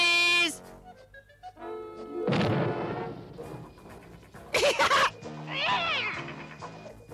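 Cartoon cat meowing and caterwauling in short loud bursts, mixed with crashes, thuds and cartoon sound effects in a Smurfs chase scene.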